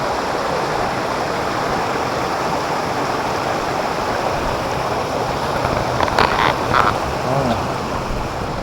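Odugathur Thottiparai waterfall in Tamil Nadu: a loud, steady broadband rush of falling water close by, unbroken throughout, with faint brief sounds of people near the end.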